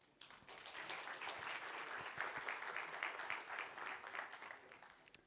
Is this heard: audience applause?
yes